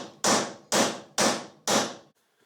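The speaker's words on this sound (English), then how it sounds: "I can knock in with a copper hammer" A copper hammer drives a new bearing into place on a mini digger king post, giving four loud, evenly spaced metallic knocks close by, each ringing briefly before the next, then silence.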